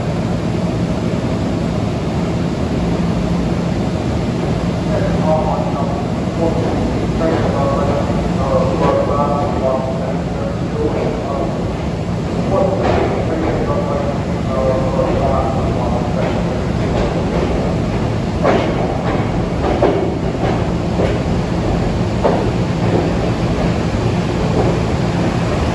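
Metro North M3 commuter train pulling in on track 37, a steady rumbling roar with squealing and clanking wheel noise rising and falling throughout, continuous and fairly close.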